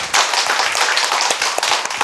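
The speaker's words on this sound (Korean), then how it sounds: "이해가 가시면 박수로 하나님께 영광." Church congregation clapping together during a Wednesday worship service, a loud, dense, sustained round of applause with sharp overlapping claps and no talk.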